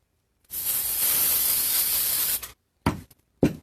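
Aerosol sealer sprayed onto a ceramic bisque Christmas tree (Clay Magic #4005): one close, steady hiss lasting about two seconds, then two short separate bursts, with no talking.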